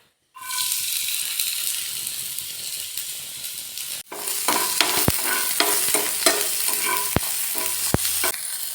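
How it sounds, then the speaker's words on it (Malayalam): Chopped onion and tomato drop into hot coconut oil in a pan and set off a sudden bright hiss. Sizzling and crackling carry on throughout, with a second loud burst midway and scattered sharp spatters and stirring clicks. "ഇതാ പാൻ അടുപ്പത്തേക്ക് വെച്ചിട്ടുണ്ട് നമുക്ക് വെളിച്ചെണ്ണ ഒഴിച്ചു കൊടുക്കാം"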